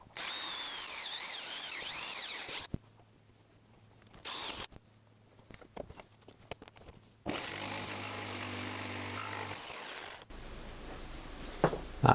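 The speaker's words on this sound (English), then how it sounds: "drilled a hole in the corner just to take the blade" A power drill bores a hole in a piece of beech wood in a home workshop, giving a steady whining motor drone in two long runs separated by quieter pauses with small knocks and handling noises.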